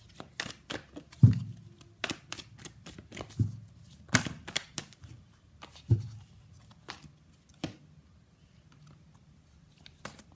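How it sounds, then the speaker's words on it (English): A tarot deck is handled and shuffled, with sharp, dry card snaps and flicks in irregular bursts, close and fairly quiet, with no voices. "Let's pull some cards from universe."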